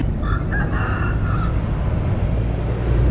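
A rooster crows near a temple in Thailand, one short crow heard over a steady low rumble of background noise.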